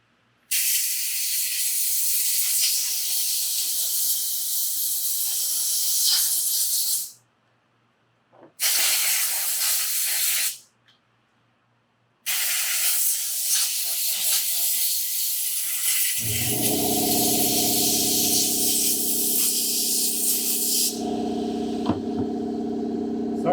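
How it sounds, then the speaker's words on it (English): An air compressor blasts air through a Stihl MS362C chainsaw in loud, hissing bursts with two short pauses, then the compressor motor kicks in with a heavy drone beneath the last spray. "sorry, that compressor is quite loud."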